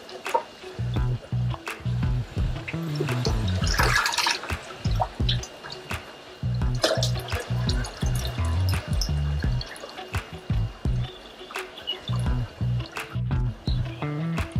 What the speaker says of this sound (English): So I just take a container full and